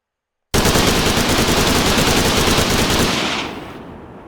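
Redwave 2 video game gunfire starts abruptly as one loud, rapid automatic burst. It rattles steadily for about three seconds, then cuts off into a brief fading tail.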